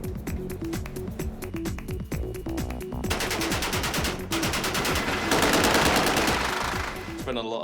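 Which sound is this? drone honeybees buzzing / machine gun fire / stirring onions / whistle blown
machine gun fire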